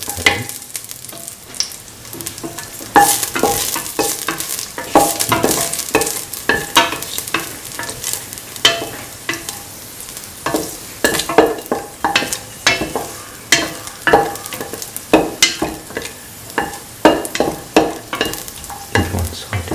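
Cashews sauteing in a pan with salt, a spoon stirring and scraping in steady repeated strokes over a soft background sizzle, close and fairly loud, no voices.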